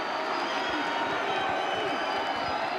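A crowd roars steadily at a Nebraska Class A state boys soccer championship between Lincoln Southwest and Omaha South, a dense, continuous wash of cheering and applause with a commentator's voice faintly beneath it.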